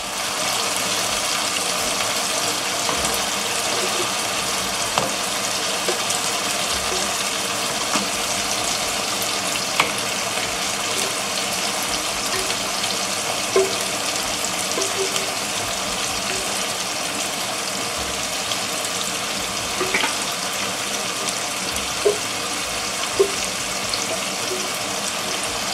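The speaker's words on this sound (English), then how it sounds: "I'm going to add the crab and the water of the crab." Crab and its cooking water added to a pot of okra soup, a steady bubbling, sizzling wash of liquid throughout with occasional small clicks and no talking.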